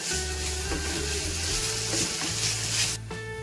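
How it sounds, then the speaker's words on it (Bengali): Spices and grated coconut dry-roasting in a pan while being stirred, a continuous dense scraping sizzle that drops off sharply near the end. "এবারে আমি এর মধ্যে দিয়ে দেবো কোরানো নারকেল। দিয়ে হালকা নাড়িয়ে নেব।"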